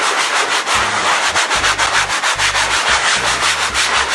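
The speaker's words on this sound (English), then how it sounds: "Okay, I'm gonna get my sanding sponge." A sanding sponge rubs back and forth over painted upholstery fabric, giving close, loud, steady scratchy strokes in an even rhythm with no talking.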